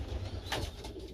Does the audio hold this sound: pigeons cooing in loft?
yes